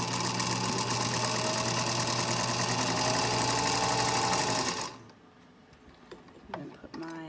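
A vintage 1935 sewing machine stitches fabric in a steady, rapid mechanical rhythm for about five seconds, then stops, leaving faint handling clicks and rustles.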